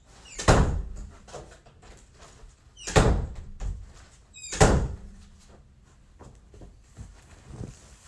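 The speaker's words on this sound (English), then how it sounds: "while I close the door" A door is closed three times at roughly even intervals, each a sharp, fairly close thump with a brief rattle, separated by quiet room tone.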